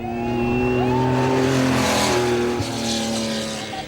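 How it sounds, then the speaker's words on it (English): A Mark II Ford Escort rally car on a tarmac-and-gravel stage roars close by, its engine revving hard and shifting pitch through gears, with a brief skid as it passes. "the fastest of the classics were Alistair Cavan and Gavin Lawrence in the Mark II Escort"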